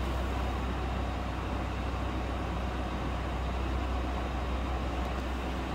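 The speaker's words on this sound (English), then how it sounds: "Sorry about that noise in the background. Raising a lift in the detail department." A hydraulic vehicle lift raising in a car dealership's detail department: a steady, broad mechanical drone with a low hum persists throughout, like a motor running continuously at moderate loudness.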